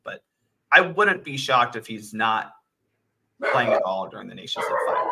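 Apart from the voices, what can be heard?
dogs barking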